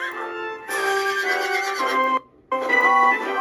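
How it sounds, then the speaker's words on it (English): A horse whinnies loudly and close at a circus, a long quavering neigh, then a brief pause before a second neigh begins. "Percy loved the horses."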